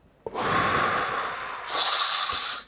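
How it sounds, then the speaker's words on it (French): A slow, deep breath drawn in and let out during a calm guided moment, a single long airy inhale followed by a brighter, hissing exhale, close and alone with no talk. "Une respiration."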